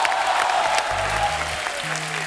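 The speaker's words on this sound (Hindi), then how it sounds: "जोरदार तालियां होनी चाहिए." Studio audience applause on a TV comedy talk show rings out as a brief, dense burst of clapping that holds steady and then slowly eases off.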